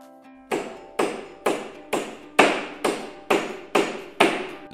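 A hammer strikes eight times at a steady, even pace, each tap sharp and close with a short ringing decay, with no talk over it.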